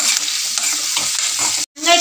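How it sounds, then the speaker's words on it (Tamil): Onions and curry leaves sauté in a pan with a loud, close sizzle and scraping stirs, then a sudden short drop to silence before the frying noise surges back. "கருவேப்பிலை சேர்த்து இது கொஞ்சம் லேசாக வதக்கிக்கலாங்க."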